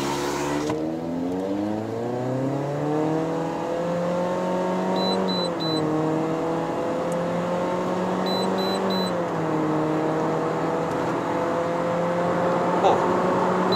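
A 2015 Toyota Corolla Altis 2.0V with a CVT accelerates hard from 0 to 100 km/h, the engine drone climbing in pitch and dipping at simulated shift points, heard steadily from inside the cabin.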